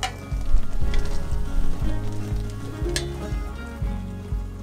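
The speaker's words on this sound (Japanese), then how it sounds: "全体がふつふつと沸騰してくるまでは中火で加熱します。" Apple jam with the apple peels returned to the pot, heated over medium until it bubbles throughout: steady close sizzling and bubbling with soft pops and occasional light clinks, and no voices.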